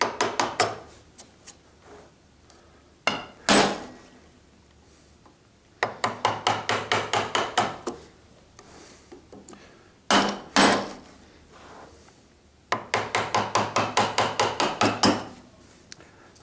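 A chisel is struck into wood in bursts of rapid, sharp, close-up blows, with several quick series of hits separated by short pauses.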